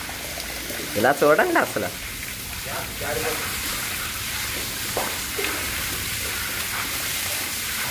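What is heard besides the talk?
rainwater flowing through a flooded house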